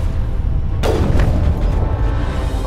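A cannon fires in the video game Mass Effect 1: one loud, sharp boom partway through that decays into a low rumble over a constant noisy background.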